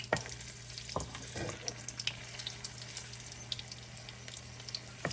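Steak sizzling and frying in hot oil in a pan, a steady close crackle with a low hum underneath and occasional sharper pops and stirring knocks.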